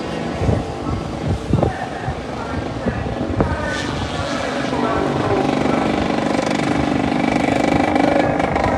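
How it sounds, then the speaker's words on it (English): A racing scooter with a faulty exhaust buzzes past at Pembrey circuit, its exhaust rasping and rising in pitch as it draws nearer, with a few sharp bursts early on. "Sounds noisy, sounds like it could be the exhaust again."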